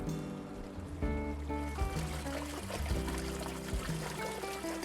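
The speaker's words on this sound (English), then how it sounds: "Its rhythmic water flow carries to the adjacent lawn" Water flows steadily in a garden reflecting pool. The trickle is soft and continuous, under a layer of low tonal hum and music.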